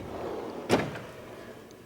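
A single short sliding scrape from a metal tool box drawer being pulled open in a home garage. It is moderately close and stands alone against a faint background hiss.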